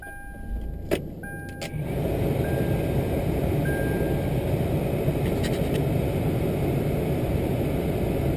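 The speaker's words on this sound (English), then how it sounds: "Turn it back on, full AC," Truck started and left running with its air conditioning on full recirculate; a few beeps and clicks come first, then a steady, close engine and blower roar holds to the end.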